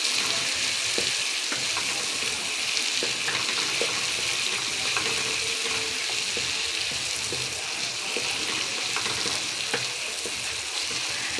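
Chicken and arvi (taro root) stirred into sizzling masala in a pan, a steady close frying hiss with scraping stir strokes throughout and no talk.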